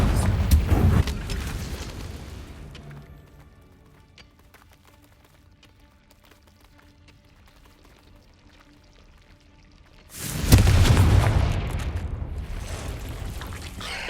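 The Confringo blasting spell detonating in Hogwarts Legacy: a loud, deep explosive burst that fades over a few seconds into near quiet, followed by a second heavy blast later on.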